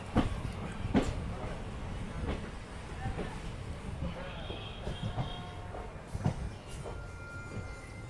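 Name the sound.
train at Gondal railway station platform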